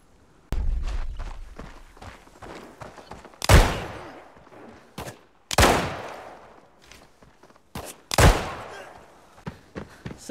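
Gunfire in the shooter game Arena Breakout: a quick run of light clicks and small shots, then three loud, echoing blasts a couple of seconds apart, with softer pops and clicks between them.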